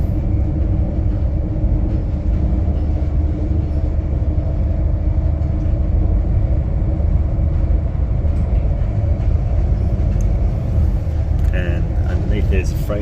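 Interior of a Transperth train running from Mandurah to Yanchep, a loud steady rumble and rolling wheel drone throughout with faint rail clicks and a brighter squeal near the end, while someone talks over it.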